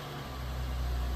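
Lexus GS350 with an aftermarket axle-back exhaust, its engine giving a light rev from idle, a steady low rumble that swells slightly, close and continuous.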